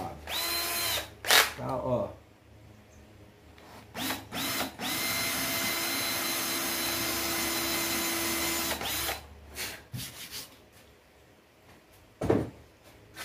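A power drill bores a small hole for a homemade keychain, running steadily for about five seconds with brief bursts before and after, close and loud, and a voice speaks briefly between the bursts.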